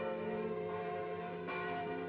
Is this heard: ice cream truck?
no